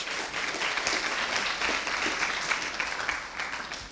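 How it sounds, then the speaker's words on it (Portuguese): An audience claps steadily and densely, giving a round of applause to the first guest at a talk on urban planning and city management; the clapping is sustained and fairly close, with no speech over it. "por favor, aplausos para o nosso primeiro convidado de hoje"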